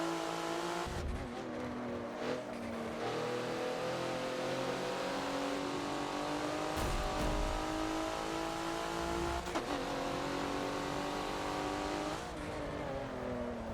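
A Porsche race car's engine howls in the Forza racing game at Hockenheimring, revving hard with steady, unbroken power and several sharp gear-shift breaks. No voices, just the loud, close engine throughout.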